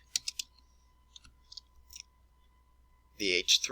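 A few soft keystrokes click on a computer keyboard in short, sparse bursts, close but quiet, before someone starts speaking at the end.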